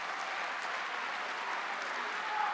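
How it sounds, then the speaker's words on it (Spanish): A conference audience claps steadily for speaker Roberto Martínez, a soft, even wash of applause that carries on without a break. "Aplauso para Roberto Martínez."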